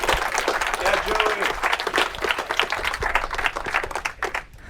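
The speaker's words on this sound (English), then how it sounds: "We give him a round of applause, please." A debate audience at Cambridge applauds as a vegan activist speaker is introduced, with dense, steady clapping filling the room and a brief spoken word cutting through near the start before the applause thins toward the end.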